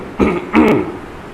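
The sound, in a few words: imitated coughing by storyteller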